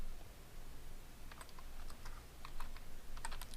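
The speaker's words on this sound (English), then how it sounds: "We're going to type in our password" A password is typed on a computer keyboard in a quiet room, a few soft, scattered key clicks over faint background hiss.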